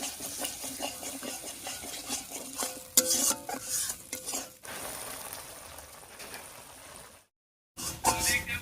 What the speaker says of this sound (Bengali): টক দই দিয়ে খুব সুন্দর করে কষিয়ে নিয়েছি মশলার সঙ্গে